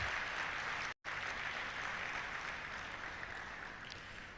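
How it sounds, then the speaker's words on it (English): A lecture audience gives sustained applause that fills the hall, with one brief break in the sound before it continues and slowly fades. "I think a round of applause should have accompanied the calling of her name."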